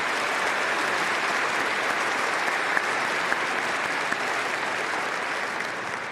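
A large crowd applauds steadily at an Auburn University fall commencement ceremony, a continuous, even roar of clapping with a few sharper claps standing out near the end.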